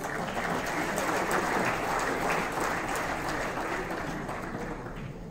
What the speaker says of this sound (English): Can we please have a huge round of applause for our presenters?